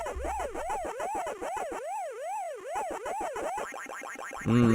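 Pac-Man game audio from the GBA Pac-Man Collection: a looping, rising-and-falling electronic siren warble repeats steadily and loud, then breaks into a burst of bright chiptune blips at the end.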